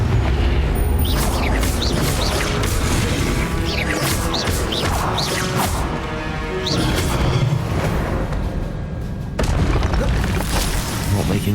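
A Confringo fire spell explosion in Hogwarts Legacy on Nintendo Switch: loud booming blasts and crashes amid dense, continuous battle effects.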